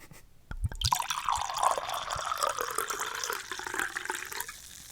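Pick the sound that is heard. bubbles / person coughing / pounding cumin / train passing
bubbles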